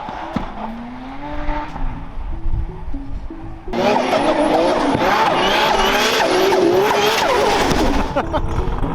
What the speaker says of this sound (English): the cars are driving faster and faster each lap